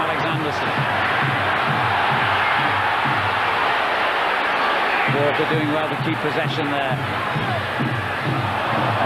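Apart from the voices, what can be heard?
football stadium home crowd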